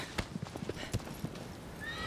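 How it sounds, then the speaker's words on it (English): A horse in the video game Shadow of the Colossus clip-clops on hooves in a short run of steps, then gives a brief whinny, up close with no speech. "Oh, the horse doesn't want to go any further."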